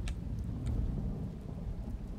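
Low, broad rumbling thunder in the video game Dishonored, a steady dull roll with rain-like hiss filling the whole stretch at moderate level, no voices.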